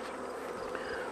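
A few honey bees linger around a hive box, their faint steady droning hum low in level and uninterrupted.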